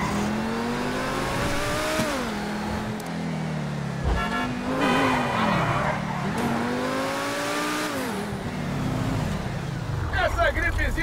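A car in the video game GTA V revs and shifts through gears with rising and falling engine pitch, then skids with tire squeal near the end, loud and continuous.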